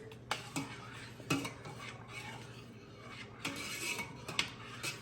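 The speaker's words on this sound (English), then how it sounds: "I usually stir about 30 seconds" Spoon stirring black-eyed peas in a pot, faint scraping and clinks against metal coming in irregular strokes over a low steady hum, quiet and close.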